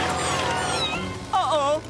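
Cartoon kittens meowing in a Danish-dialogue animated scene, high mewing cries heard alongside voices, with a brighter cluster of meows near the end.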